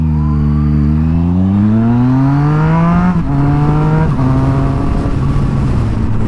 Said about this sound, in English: The engine on this thing, 850cc, 3-cylinder, I love it.